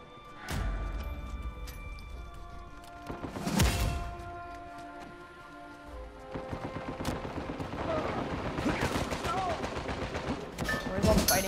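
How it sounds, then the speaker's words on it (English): Gunfire in an Uncharted 4 multiplayer match, with sharp distinct shots early on giving way to rapid, clustered bursts of automatic fire, fairly close and loud, with no talk over it. "I hear a bunch of shooting."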